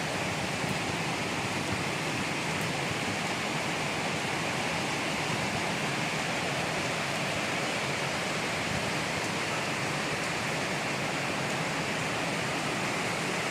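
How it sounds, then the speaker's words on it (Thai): Heavy rain pours in a dense, unbroken hiss over Vientiane, Laos, heard from a high vantage point, with wind blended into the steady roar and no voices. "มีทั้งลมเนาะมีทั้งลมทั้งฝน"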